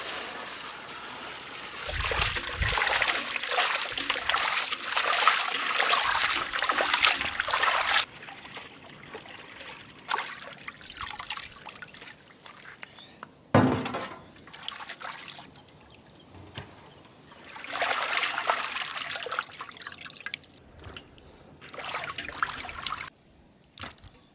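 Water poured and trickling while sea catfish is washed in a village kitchen, a steady close stream and splashing that comes and goes, with drips and a brief clunk.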